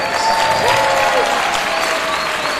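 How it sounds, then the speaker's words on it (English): Crowd applause at a Muay Thai championship fight in Texas after a three-round bout, steady dense clapping filling the hall with some voices mixed in. "Round of applause for these guys."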